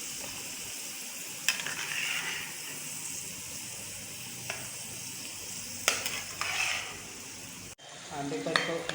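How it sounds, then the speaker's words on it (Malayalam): Cashew nuts fry steadily in a pan of hot oil, a continuous dense sizzle with a few sharp stirring clinks and scrapes, no talking. "അണ്ടിപ്പരിപ്പ് വറക്കുകയാണ്"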